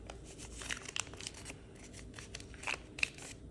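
Origami paper is folded in half by hand, giving faint, close crinkles and a few short crisp creasing snaps against a quiet room.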